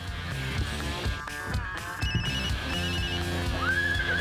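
A loud electronic phone ringtone plays a repeating melodic pattern, close and continuous, with no one speaking.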